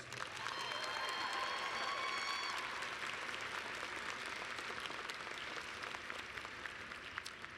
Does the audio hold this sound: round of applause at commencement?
yes